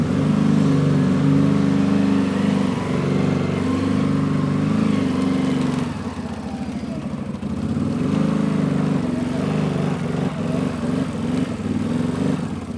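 A CFMOTO Gen 3 CForce 1000 ATV on its stock tune runs with a Trail Tamer exhaust, giving a loud, steady, deep drone close by that dips briefly before picking back up, with no talking.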